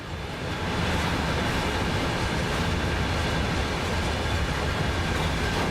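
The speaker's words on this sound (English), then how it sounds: "I like all the noises the carriages make as they rumble through." In Train Sim World 5, train carriages rumble along the track in a steady, dense roar, with wheels clattering and grinding under a heavy continuous wash of noise and no speech.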